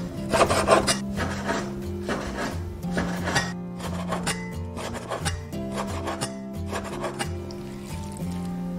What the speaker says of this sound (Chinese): 我们一定要竖着这个鱼肉切，等一下它炒的时候才不会散